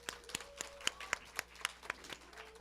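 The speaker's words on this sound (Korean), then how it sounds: "모두에게 같이 박수 부탁드립니다" An audience at a youth economics awards event claps for the participants, a sparse, steady run of distinct hand claps sounding fairly close, with a faint tone held underneath.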